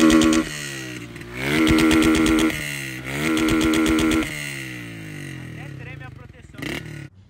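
A loud motorcycle with a noisy, tinny aftermarket exhaust is revved hard into the rev limiter several times. It gives sustained buzzing bursts that stutter at the cutoff, then drop back to idle, heard close up without talk.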